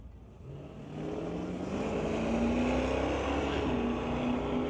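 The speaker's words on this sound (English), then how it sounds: "that will bring up another Camaro Z28 over here" Camaro Z28 drag car, alongside a 1994 Camaro, accelerating down a street-legal drag strip at Mission Raceway Park: a rising engine roar climbing steadily in pitch, loud and close, growing stronger, with no voices.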